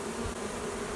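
A honey bee swarm clustered on a pine tree near the ground gives a steady, dense buzzing hum, close and continuous.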